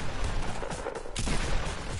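Dense video-game gunfire, a fast burst of shots rolling across two seconds, loud and continuous with no talk over it.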